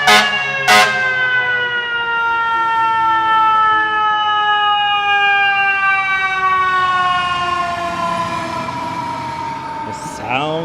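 An FDNY fire engine, Engine 6, sounds its siren while passing along a Manhattan street in New York City: a loud, close, sustained wail that slowly falls in pitch, with short horn blasts at the start and end.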